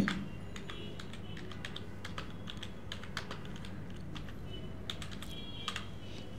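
Steady run of computer keyboard keystrokes, crisp irregular clicks typed continuously at close range over a faint room hum, with no voices.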